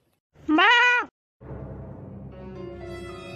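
A calf bleats once, a high wavering cry like a young lamb, loud and close; after a short pause a steady rustling and low background noise follow, with a faint tonal sound near the end.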